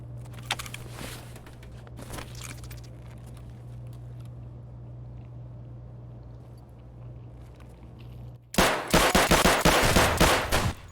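Makarov pistol fired repeatedly at a scav in Escape from Tarkov, a few sharp isolated shots early on, a quieter stretch with a low steady hum, then a loud dense burst of rapid shots near the end.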